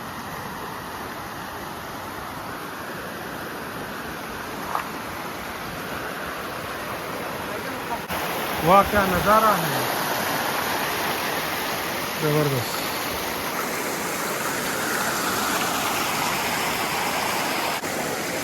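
A freshwater stream rushes steadily throughout, a continuous broadband wash of muddy flowing water, with a person briefly exclaiming over it midway.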